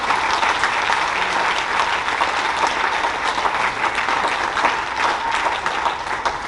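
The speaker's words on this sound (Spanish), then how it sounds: "denle el aplauso al Señor" Church congregation applauding during a Spanish-language sermon, a loud, continuous crowd clap with no voices on top, steady from start to finish.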